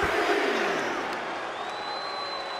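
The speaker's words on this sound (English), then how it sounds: "this crowd is on their feet in full appreciation" A wrestling arena crowd in WWE 2K24 roars and cheers continuously during a Jeff Hardy vs Triple H match, a loud, dense wall of crowd noise with faint commentary voices mixed in.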